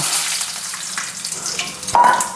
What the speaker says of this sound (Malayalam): നമുക്ക് ഈ പുളിവെള്ളം ഇതിലേക്ക് ഒഴിക്കാം കേട്ടോ